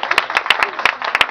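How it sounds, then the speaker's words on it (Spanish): A small group claps in quick, uneven bursts, sharp hand slaps overlapping at close range for a brief moment. "¡Ya, un aplauso para la Violeta!"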